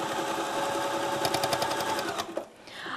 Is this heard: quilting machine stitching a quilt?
yes